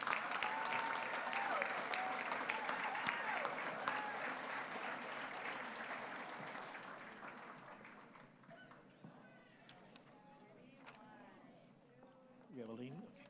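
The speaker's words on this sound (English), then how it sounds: "Let's give this class a round of applause." A board meeting audience applauds the graduating class, steady clapping for about six seconds that thins and fades, after which talk and room chatter take over.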